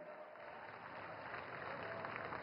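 Audience at a Delhi event with Prime Minister Narendra Modi giving steady, dense applause, a continuous muffled wash of clapping heard faintly from a distance.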